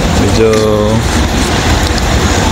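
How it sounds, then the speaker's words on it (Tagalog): Heavy rain pours in Sharjah, a loud, dense, continuous wash of noise with a low rumble, and a voice speaks briefly under it near the start. "Grabe ang ulan."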